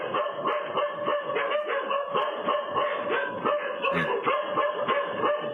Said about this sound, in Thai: โอ้โหหมาเห่ากันเกลียวเลย